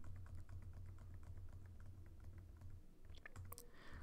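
Typing on a computer keyboard, a quiet run of rapid, uneven key clicks close to the microphone, ending in a few sharper, louder keystrokes.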